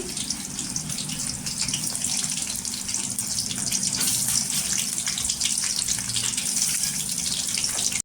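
Stuffed brinjals frying in oil in a kadhai make a dense, continuous, fairly loud sizzle with a rushing, watery hiss that holds steady throughout.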